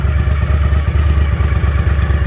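A Honda CX500 cafe racer fitted with 12-inch baffled shorty mufflers idles close by, its exhaust giving a loud, steady, lumpy low throb with a quick even pulse and no voices.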